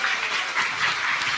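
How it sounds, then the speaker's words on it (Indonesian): An audience clapping at a talk, a brief, continuous burst of many hands applauding, steady and moderately loud with no speech. "Tepuk tangan."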